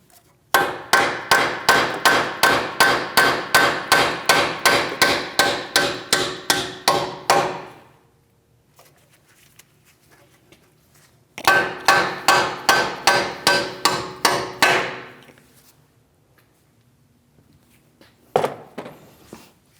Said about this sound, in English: You'll have to tap them out of place.